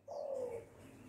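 A single soft coo from a dove or pigeon in a home aviary, brief and fairly quiet, with faint background behind it.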